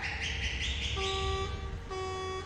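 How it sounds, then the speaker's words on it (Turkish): Vehicle horns sound in a bus simulator video game while driving a team bus: sustained, overlapping honks of different pitches blare one after another over a steady engine hum. "Çok acayip korna sesleri geliyor kulağıma."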